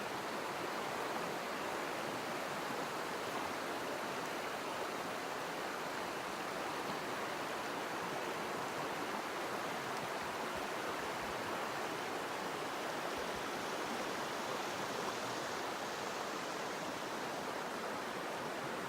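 The Chattooga River flowing near Burrell's Ford rushes steadily and evenly, a constant broad hiss of a clear stream with no voices or breaks.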